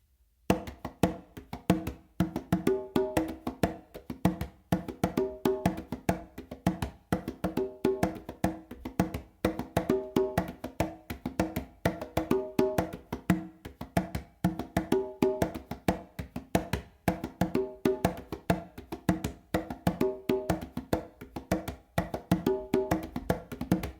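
Conga drums play a busy, steady rumba groove with rapid slaps and open tones, including opens on the quinto, repeating throughout, fairly quiet and unaccompanied.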